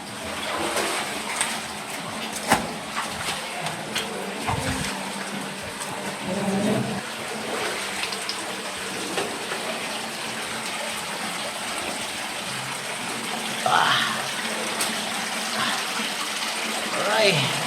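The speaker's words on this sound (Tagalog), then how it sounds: "Naririnig yan mga Dimax, yun na yung tubig." Water flowing and gushing inside Mabinay cave, a steady broadband rush throughout, with bird-like chirps and occasional splashes over it, and a voice speaking now and then.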